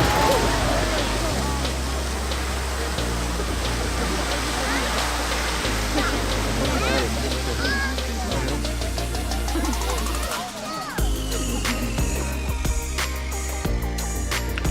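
Roaring rush of Gullfoss waterfall on Iceland's Golden Circle, a steady broadband wash of falling water heard up close and loud throughout, with scattered voices and background bustle mixed in.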